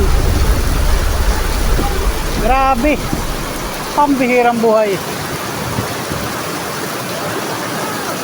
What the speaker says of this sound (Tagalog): grabe, ang lakas ng ulan dito